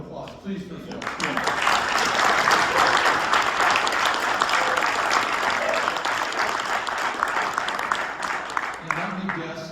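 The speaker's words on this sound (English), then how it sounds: "Second hand of applause, please, for Phil." A lecture audience gives a second round of applause for a baseball history author and trumpet player named Phil: brisk, full-room clapping rising quickly and holding for several seconds before tapering off.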